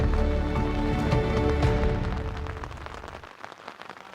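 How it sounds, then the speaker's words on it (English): Torrential rain pours down on Kilimanjaro, a loud, close, dense patter of drops that eases a little toward the end. "shooting in this absolutely torrential rain"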